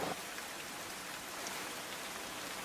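Heavy monsoon rain pours down in Surat, flooding streets: a dense, steady hiss of downpour drumming on surfaces, continuous and even throughout, with no voices.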